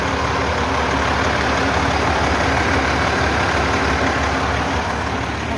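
A green Freightliner truck's rebuilt engine, fitted with new original parts, idles close by with a loud, steady, unbroken rumble and no other sounds.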